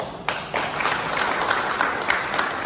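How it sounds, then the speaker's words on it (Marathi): An audience at a large village assembly about the Karanja–Rewas bridge claps together, a dense continuous round of applause heard close and fairly loud throughout. "तुम्ही टाळ्या वाजवल्या ठीक आहे"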